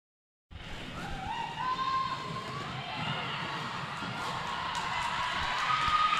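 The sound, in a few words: crowd cheering loudly at race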